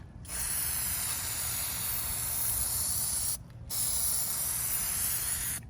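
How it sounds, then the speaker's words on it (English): A steady hissing spray from an aerosol can of Plasti Dip coating a Silverado 2500 HD emblem from 6 to 10 inches away, held for several seconds, briefly cut off, then resumed. "spray 6 to 10 inches away from the actual surface"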